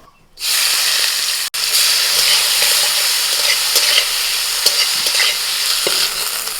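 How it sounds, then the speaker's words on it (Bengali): Prawns coated with salt and turmeric fry in a pan, a loud steady sizzle that bursts in after a short quiet start and hisses on without a break, with a brief dip near the start and no talking. "চিংড়ি মাছের মধ্যে একটু লবণ আর হলুদ মাখিয়ে নিয়ে চিংড়ি মাছটা এবার ভেজে নেবো"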